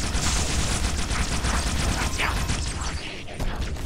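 A Halo 2 plasma pistol fires in a rapid, dense stream of shots with a continuous crackling rattle, loud and close, and no talking over it.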